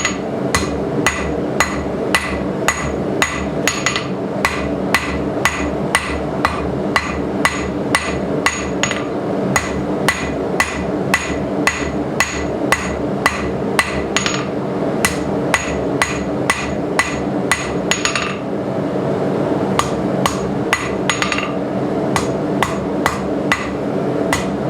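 Steady, evenly spaced hammer blows ring out close and loud as a blacksmith forges a simple square punch from a jackhammer bit, dozens of sharp metallic strikes on hot steel with a brief pause near the end, no talking.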